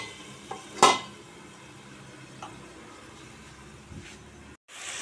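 Potatoes and cauliflower fry with spices and tomato in a pan, giving a low, quiet sizzle, with a sharp clink of a utensil against the pan and a few faint stirring scrapes, no talking.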